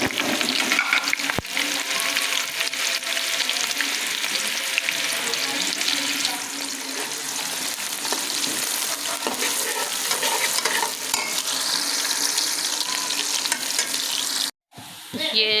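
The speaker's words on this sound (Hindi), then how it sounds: "अब हम इसमें प्याज डालेंगे।" Onions sizzling in hot oil in a pan while being stirred for aloo matar pulao, a steady close frying hiss with stirring scrapes throughout and a brief break near the end.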